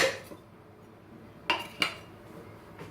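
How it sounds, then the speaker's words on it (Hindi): A pressure cooker is set on a gas stove and a big spoon of oil goes in. Mostly quiet, with a few sharp metallic clinks of spoon and pot near the middle and at the end. "कुकर को गैस पर रख के 1 बड़ा चम्मच तेल का डालेंगे।"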